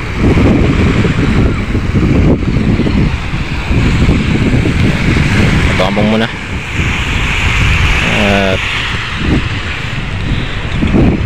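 Loud, continuous roar of ocean surf mixed with heavy wind buffeting the microphone, steady throughout with a couple of brief faint tones poking through.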